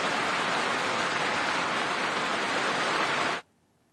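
Heavy monsoon downpour and the swollen, flooding Tamsa river near Tapkeshwar temple make a dense, steady roar of water that holds unbroken for over three seconds and then cuts off abruptly.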